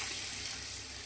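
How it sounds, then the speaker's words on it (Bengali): Potato pieces fry in hot oil, giving a steady, soft, even sizzle that goes on unbroken throughout, with no speech. "এবার আলুগুলোকে আমি এর মধ্যে ভেজে নেবো।"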